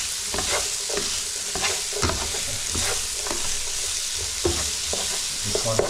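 Chicken pieces frying in olive oil for a sweet and sour dish, stirred steadily in the pan: close, continuous crackling sizzle broken by repeated scraping strokes of a utensil, with no voices.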